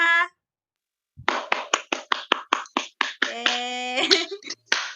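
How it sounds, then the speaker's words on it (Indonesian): Classroom students clapping for a presenting group, a run of separate, fairly loud hand claps in a loose rhythm, partly overlapped by a tonal, voice-like sound toward the end. "Tepuk tangan untuk kelompok 2"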